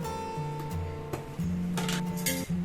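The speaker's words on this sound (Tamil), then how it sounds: "ஸ்டவ் பற்ற வச்சு பேன் வச்சிடலாங்க." A pan set down on a home kitchen stove while cooking mushroom butter masala gives a couple of brief metallic clinks over steady background music.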